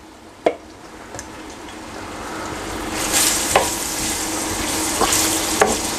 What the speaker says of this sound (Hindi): अभी मैं प्याज को अच्छी तरह फ्राई कर लूँगा, क्रिस्पी फ्राई।